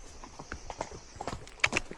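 Pony hooves clip-clopping at a walk on a ride outdoors, a steady run of fairly close hoofbeats with a couple of sharper knocks near the end.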